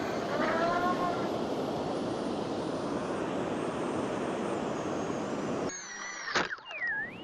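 An E-Sky Seagull RC model airplane coming in to land: a continuous buzzing electric motor drone with wind noise, steady and fairly loud, then cutting out abruptly near the end before a brief rustling thump.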